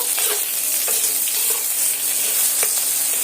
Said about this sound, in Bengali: আলুগুলো পেঁয়াজের সঙ্গে একটু নেড়ে চেড়ে নিচ্ছি